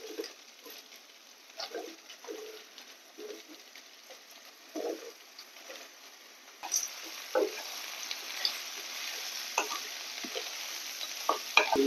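Ridge gourd frying in a pan with ginger and garlic, a soft sizzle with intermittent stirring scrapes that grows louder and denser partway through, with no talking.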